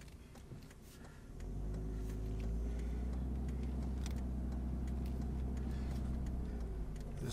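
An old vehicle with overdrive off backing up slowly on a dead-end road: a steady low engine drone rising after the first second, close and continuous, with light ticking and clicks over it.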